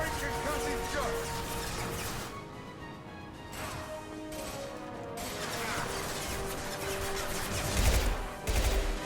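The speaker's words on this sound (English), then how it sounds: "Firing concussive shots." Concussive shot power fired in the sci-fi shooter Mass Effect 2, heard amid a dense, continuous battle mix of gunfire and crashing impacts, with a few heavier thumps near the end.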